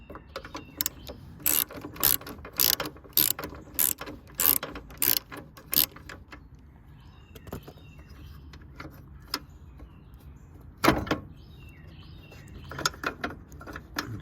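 Ratcheting clicks and metallic tool sounds come from loosening J-hook battery hold-downs on a Honda Acty kei truck, with rapid bursts of ratchet strokes, a pause, then scattered clunks and a sharp knock near the end.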